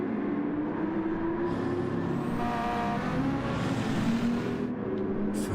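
Race cars line up for the start at the Nürburgring Nordschleife in a racing video game, their engines droning steadily and rising in pitch as they rev and pull away together, with a smooth continuous tone throughout.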